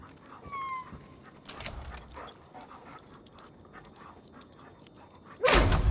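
A dog in Far Cry New Dawn gives a few soft whimpers and thin whines, then scattered faint barks and rustling, ending in a sudden loud burst of noise.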